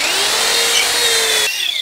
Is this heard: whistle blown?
no